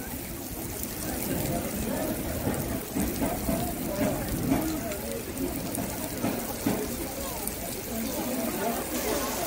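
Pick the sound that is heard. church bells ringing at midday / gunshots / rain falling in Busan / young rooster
rain falling in Busan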